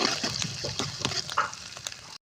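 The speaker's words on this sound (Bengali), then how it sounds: "এখন এটাকে একদম লাল লাল করে ভেজে নেব।" Garlic, onion and green chili fry in mustard oil in a home kitchen, a steady close hiss of sizzling punctuated by a few stirring scrapes and clicks throughout.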